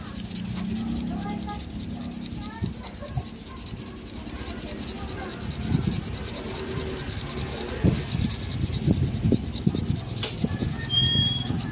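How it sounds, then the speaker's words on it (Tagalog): Sandpaper rubbed by hand over a scratched, blackened salvaged metal part in a repair shop, producing irregular close scraping strokes that grow busier and louder toward the end. "Tapos lilihain natin ng liha mga ka-viewers."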